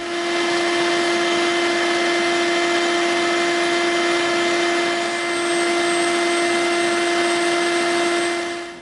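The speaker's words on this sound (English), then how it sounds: "We're going to do our last piece of dremeling and this baby's done." A Dremel rotary tool grinds EVA foam for a homemade blaster prop, giving a loud, steady high-pitched whine that runs without a break for several seconds, close up, with no talking.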